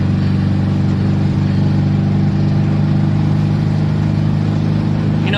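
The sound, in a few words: VW Fastback car driving on snowy road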